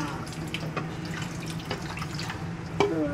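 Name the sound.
tap water running while kids wash dishes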